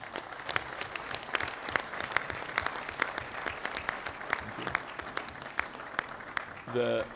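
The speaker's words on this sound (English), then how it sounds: "Can we clap hands for him?" Audience applause at the CAF 45th Ordinary General Assembly, a dense, steady patter of many hands clapping throughout in a large hall, with a voice breaking in at the very end.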